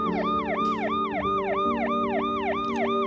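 Ambulance siren passing through a Paris street protest, sounding loud and close with a fast, regular rising and falling wail repeating steadily throughout.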